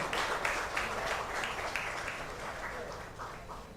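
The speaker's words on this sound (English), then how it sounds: "Just a loud round of applause for Sri Akshay Kumar and Sri Abhishek Thackeray." Faint, steady crowd applause at a women's self-defence event, greeting Akshay Kumar, a sustained wash of many hands with a murmur of voices underneath.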